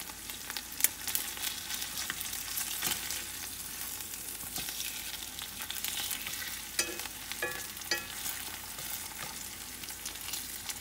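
Trout fillets sizzle in garlic lemon butter in a pan just after being flipped, a steady close crackling fry with occasional sharper pops and spatters throughout.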